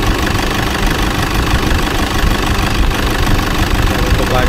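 Loud, steady diesel rumble from the 2014 Toyota Fortuner VNT engine idling under an open hood, a dense, continuous drone with an even knock-like texture and no voices.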